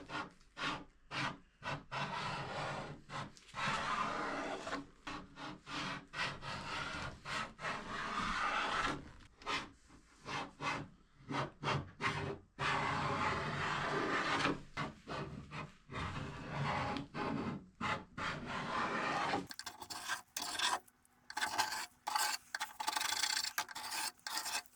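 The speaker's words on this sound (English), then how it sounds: "I'm now going to scrape off the paint stripper" Paint stripper being scraped off a pine or oak art deco dresser: steady rasping strokes of a scraper over wood, close and fairly loud, in quick repeated passes with brief pauses and no talking.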